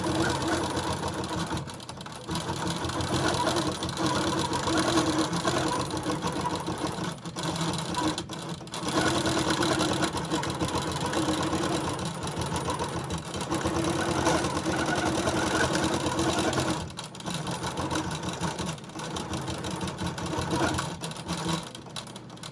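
A sewing machine runs steadily while stitching a log cabin quilt, its fast mechanical hum and clatter continuous and close, with a few short pauses where the stitching stops.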